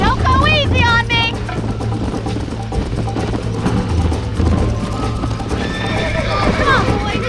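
Horses gallop with steady clip-clop hooves and loud whinnying in a Red Dead Redemption ride, the neighs sharp and close over driving game music and voices.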